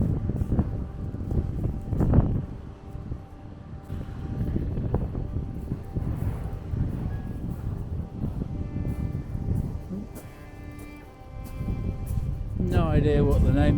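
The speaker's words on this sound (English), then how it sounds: "the wind's pretty cold" Cold wind blows across an abandoned ghost town, a steady rumbling gust buffeting the microphone throughout, with a rising whistling tone near the end.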